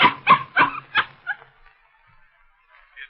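Five quick barks from a dog in a 1931 old-time radio comedy, evenly spaced and close, then fading into near silence with a faint murmur at the end.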